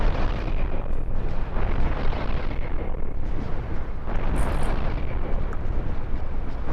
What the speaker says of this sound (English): That's a very nice explosion animation.